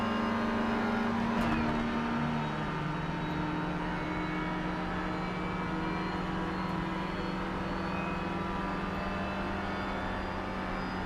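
A racing car engine drones continuously in the Project Cars 3 driving game, with a steady mid-pitched hum and a slight pitch shift early on, loud and unbroken with no voices.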